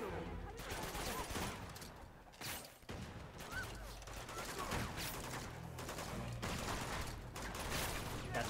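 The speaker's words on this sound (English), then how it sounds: "is someone shooting through the ground?" Dense gunfire fills a shootout in the Uncharted 2 video game, rapid bursts of shots rattling almost continuously through the scene.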